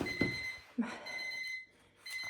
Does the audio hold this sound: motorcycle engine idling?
no